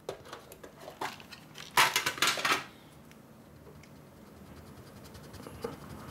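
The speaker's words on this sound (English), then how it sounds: "after which I will erase away this part" A pencil construction line for a geometry triangle being erased on paper: a brief cluster of close, dry, scratchy rubbing strokes, with quieter scraping before and after and no voices.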